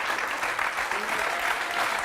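A studio audience claps for Nathalie on a French dating game show, with steady, fairly loud applause continuing throughout.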